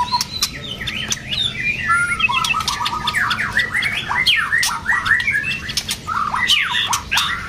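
A magpie robin imitating canary song sings rapid, varied phrases full of canary-like trills and chirps, loud and close, with a low hum underneath.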